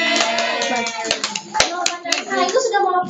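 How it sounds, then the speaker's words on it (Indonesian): A few hands clap briefly in a classroom, sharp scattered claps mixed with children's voices and chatter close by. "Bagus, tepuk tangan."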